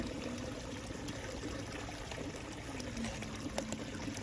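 Water poured out steadily during cleanup of a gold sluice, a continuous close trickling stream with faint splashes over outdoor background noise, no talking.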